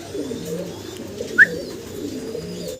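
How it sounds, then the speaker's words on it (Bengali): Pigeons at a farm making low cooing sounds, soft and continuous up close, with a single sharp chirp near the middle. "খুব চঞ্চল কবুতরগুলো, আশা করি আপনাদের পছন্দ হবে এই চমৎকার কবুতরগুলো।"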